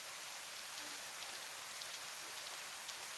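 Steady rain falling outside on a rainy Saturday, a dense, even hiss of drops on surfaces with no breaks or thunder, close and continuous throughout.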